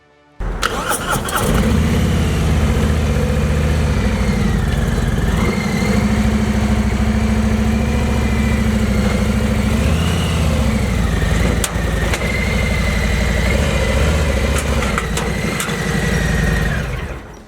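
Harley-Davidson motorcycle being loaded up a ramp into a truck or trailer, its engine firing up and settling into a loud, steady, low rumbling idle with slight revs, close by and without talk.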